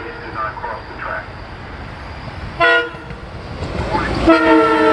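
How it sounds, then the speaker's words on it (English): A SEPTA Doylestown Express train passes the Lower State Road level crossing, its horn sounding in two loud harmonic bursts, the second longer, over a steady rumble of rail traffic and a repeating automated warning announcement. "Warning, a train is approaching the crossing."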